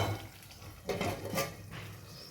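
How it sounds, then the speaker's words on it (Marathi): A lid goes onto a pan of dhaba-style mixed vegetables frying in oil, with a couple of short metallic clinks over a soft, steady sizzle. "आपण आता याच्यावर झाकण ठेवणार आहोत"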